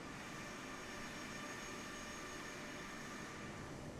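Steady broadband roar of a Boeing airliner's engines in Microsoft Flight Simulator 2024, a constant unbroken drone filling the whole stretch with no talk over it.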